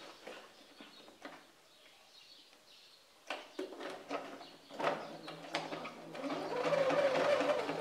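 A sewing machine running a straight seam on a fabric bag, starting with scattered clicks and handling, then building into a continuous close whir toward the end.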